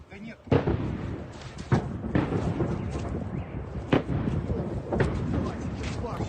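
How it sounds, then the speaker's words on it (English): Explosions from Russian air defense fire and Ukrainian drone strikes in Belgorod boom out as a series of sharp, loud blasts at irregular intervals, with a rumbling city background between them. "here's one of the clips letting y'all hear just the sounds of the explosions"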